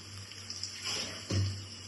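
Running water from a tap as mint leaves are rinsed in a kitchen, a short soft splashing stream with a slightly louder gush near the end.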